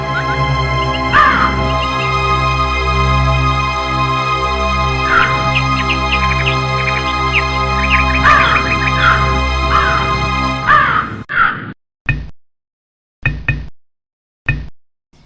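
Repeated crow caws ring out over a steady humming background, several loud calls spaced a few seconds apart, then a series of sharp knocks with silences between them.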